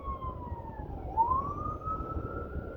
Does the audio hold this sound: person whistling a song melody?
no